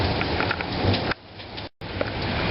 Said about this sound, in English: Hailstorm in Sydney?